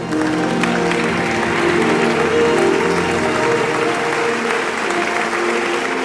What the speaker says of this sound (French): Tenons-nous debout et nous acclamons le Seigneur.